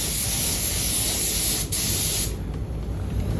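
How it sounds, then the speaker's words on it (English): Paint spray gun hissing in an auto body spray booth while a car is being refinished: a loud, continuous close-up hiss that briefly cuts out, then carries on slightly softer and steadier. "Now we're back in the spray booth at S&B Auto Body."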